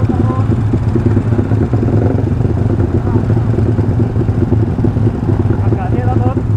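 A Binter motorcycle engine idles with a steady low, slightly uneven throb throughout, heard close up while people talk over it.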